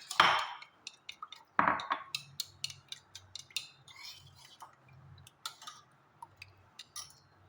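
Egg yolks and a few spoons of milk being whisked together in a bowl for a soft, fluffy cake batter, giving a run of quick, light clinks and taps against the bowl, fairly close and not loud, with no talking.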